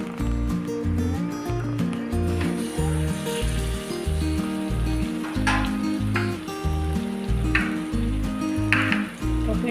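Stuffed okra steams and fries in a covered pan, giving a continuous close sizzle with low rhythmic bubbling and occasional soft stirring scrapes.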